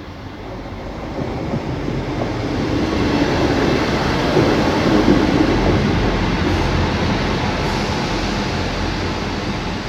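A class 158 diesel train, unit 158889, rumbles through Lincoln Central station, a steady, loud, broad roar that swells gradually and then holds as it passes close by.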